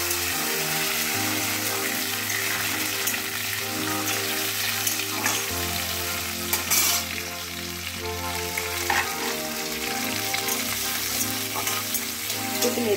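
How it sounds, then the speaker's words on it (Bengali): Tomato, half-ground spice paste and two dried red chillies fry in hot oil in a pan, a steady close sizzle with stirring scrapes over a continuous bubbling hiss, no voices. "এরপর দিয়ে দিলাম টমেটোটা, দিয়ে ভালো করে আমি তেলে কষবো।"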